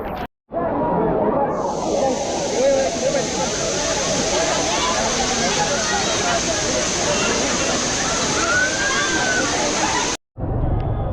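Roar of a waterfall swollen by heavy monsoon rain on the Mumbai–Matheran route in Raigad, a loud, steady rushing wash that holds for about ten seconds, with people's voices faint beneath it.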